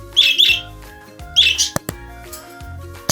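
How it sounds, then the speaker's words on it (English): A parrot gives loud, close, shrill squawking calls in two quick bursts, each a pair of harsh chirps, with a short pause between them. "P is for parrot."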